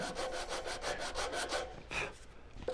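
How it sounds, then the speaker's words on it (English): Sanding wood with 150-grit sandpaper wrapped on a sanding block, leveling a button flat: rhythmic back-and-forth rasping strokes, close and steady, about eight strokes then a pause and a couple more. "I have put some 150 sandpaper in this block, and we're just going to sand off our button with 150."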